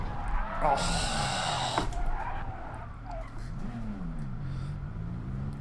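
Tyres skid on a Toyota race car in GT Sport during a manufacturer series race, a brief screech over the loud engine drone as the motor revs and shifts, with a voice exclaiming briefly.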